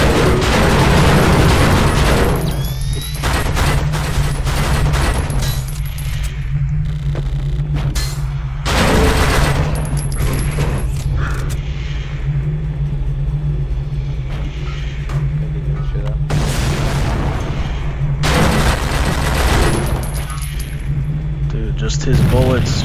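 Gunfire in a first-person shooter video game comes in repeated bursts of rapid shots separated by short lulls, loud and close, with a player talking over parts of it.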